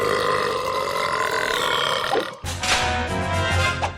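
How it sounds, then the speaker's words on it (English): A cartoon character lets out a long, loud, drawn-out burp, then a second shorter burst follows after a brief break, both close and prominent. "That's the day I learned to burp."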